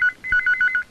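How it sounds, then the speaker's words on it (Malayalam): Telephone ringing in a rapid electronic trill, a short burst followed by several quick pulses in a row, loud and close, alone without talk. "ഫോൺ എടുക്കരുത്, ഫോൺ എടുക്കരുത്"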